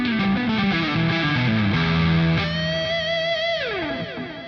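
Distorted electric guitar plays a pentatonic lick with delay, sustained notes stepping through the phrase before a bent note slides down and echoes out, loud and alone.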